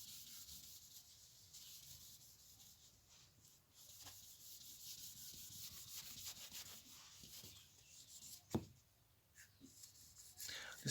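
A board eraser rubs out writing in a maths lesson, a soft, steady scrubbing hiss of low level with a short louder scrape near the end, no talk over it.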